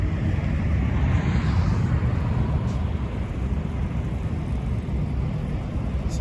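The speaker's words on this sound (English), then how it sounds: "So there goes an Air Canada jet off to you guess where." An Air Canada jet taking off at Toronto Pearson airport, a broad, steady roar heard from a distance at moderate level and holding constant throughout, with no talk.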